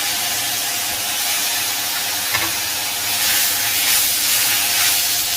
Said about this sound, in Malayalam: ഇതൊന്നും കൂടെ കൂട്ടിയിട്ടൊന്ന് വഴറ്റി കൊടുക്കണം